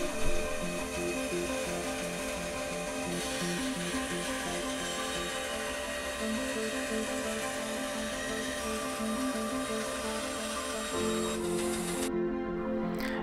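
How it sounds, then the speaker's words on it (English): A bandsaw runs continuously with a steady mechanical whine and rhythmic thumping as it cuts wood along a drawn line, close and loud, stopping briefly near the end. "I could then take them to the bandsaw to follow the line I'd drawn"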